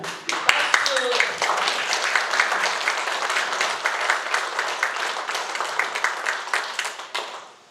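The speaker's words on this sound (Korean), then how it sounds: "박수." An audience at a forum event applauds the secretary general, a steady wash of many hands clapping at moderate distance that carries on for several seconds before fading out.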